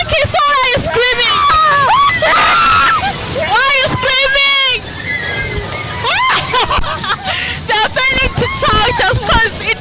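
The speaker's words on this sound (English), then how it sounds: "now get the sense why they are screaming" People scream loudly at Lunar Park amusement park during Christmas, with high wavering shrieks rising and falling in waves over crowd babble, close and dense throughout.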